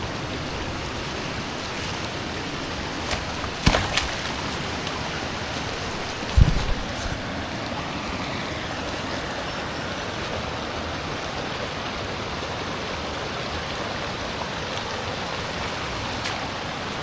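Torrential rain pours steadily overnight on a hike in the Australian Alps, a dense, continuous hiss like rushing water with a few brief knocks and thumps close by.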